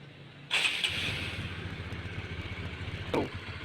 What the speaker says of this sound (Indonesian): Kemudian hidupkan mesin.